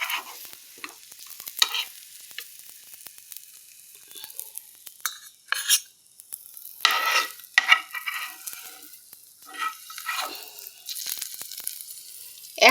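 An egg omelette cooking in a pan gives a soft sizzle broken by irregular scraping and stirring bursts of a utensil against the pan, close and fairly loud.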